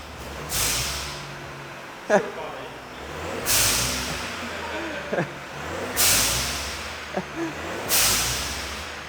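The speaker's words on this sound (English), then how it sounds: "it's got a dump valve fitted" A 1.0 TSI car engine with a resonator delete and a dump valve revs in short bursts, each ending in a loud hissing whoosh of released air, repeated several times close by.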